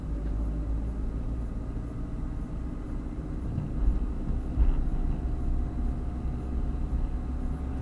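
A car engine hums low and steady from inside the cabin during a driving lesson, a continuous rumble with slight swells as it picks up speed, no talking over it.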